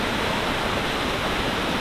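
Waterfall in Lombok roars as a dense, constant rush of falling water, loud and close with heavy spray, with no voices.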